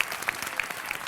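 An audience at a Malayalam comedy stage show claps, a brief burst of steady, moderately loud applause with no other sound over it.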